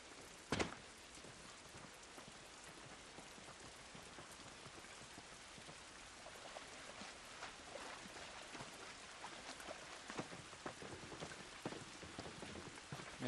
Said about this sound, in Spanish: Esta lluvia no nos ayudará.